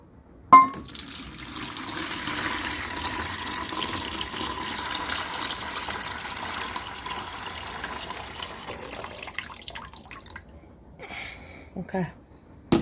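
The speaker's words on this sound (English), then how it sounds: "I'm going to pour this into this clean bucket." Water pours steadily into a clean bucket for about nine seconds, a continuous splashing stream, followed by a few clunks and a brief spoken remark.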